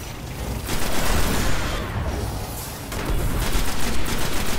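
Sustained gunfire rattles in the video game Destiny, dense rapid shots with a brief lull midway before firing resumes loudly.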